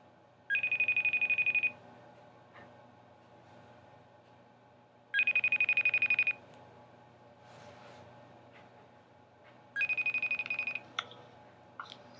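A FaceTime call rings out in three long bursts of a bright repeating electronic tone, each about a second long and separated by several seconds of quiet, clear and close with no talking.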